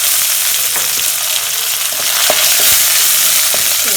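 Curry leaves, mustard seeds, urad dal and dried red chillies crackle and sizzle loudly in hot oil in a pan, a continuous close frying hiss with sharp pops scattered through.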